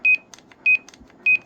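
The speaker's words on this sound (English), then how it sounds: "to hear the Roger beep through the speaker, you just hit function and beep, and then it puts the little chime on" A CRT 6900V CB radio's roger beep chime plays through its speaker, three short bright tones repeating evenly about every half second, with small clicks between them.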